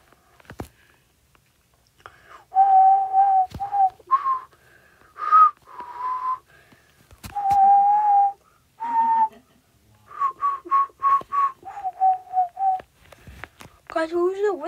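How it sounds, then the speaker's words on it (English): A short tune whistled in a Sonic-style video game, a series of clear held and quick notes broken by pauses, with a few clicks and some breathy sounds between phrases. "Froggy, did you hear that whistle?"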